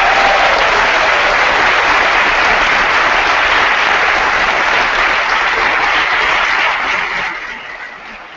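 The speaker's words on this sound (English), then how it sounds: "Give yourselves a round of applause." Sustained audience applause at a school district award ceremony, a dense steady clatter of many hands that fills the room and fades out near the end.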